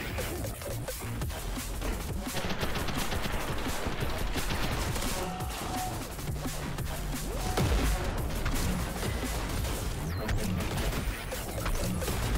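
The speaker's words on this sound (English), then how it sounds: "that's a grenade launcher" Grenade launcher fire in the video game Sprawl, dense rapid bursts of gunfire and explosive crashes filling the whole stretch without pause, loud and close.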